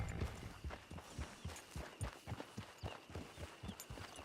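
Horse hooves clip-clop at a steady walking pace in the Western video game Red Dead Online, soft and fairly distant beneath a faint ambient backdrop.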